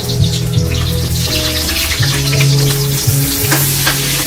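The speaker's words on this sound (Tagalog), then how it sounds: "Gisahin daw the garlic. Bawang at sibuyas." Garlic and onion sautéing in a hot pan, a steady loud sizzle with a spatula scraping and stirring through it, plus a low steady hum in the background.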